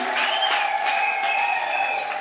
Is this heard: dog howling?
no